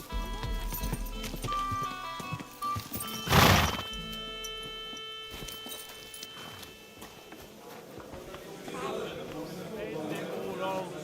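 A horse in Kingdom Come Deliverance II lets out one sharp, loud neigh midway, amid clip-clopping hooves, footsteps and game music, with voices talking around it.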